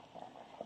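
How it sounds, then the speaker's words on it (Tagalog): Soft bubbling of a pot of pork nilaga soup at a low boil, faint and continuous, with small pops rising through the simmer. "Dahil kumukulo na po"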